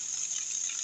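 Spring water gushing nonstop out of rock, a steady, close, unbroken rush of flowing water with no pauses and no voices.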